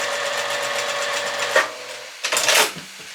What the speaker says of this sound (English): Generally like to sew along the edge of the presser foot because it helps me keep my fabric nice and straight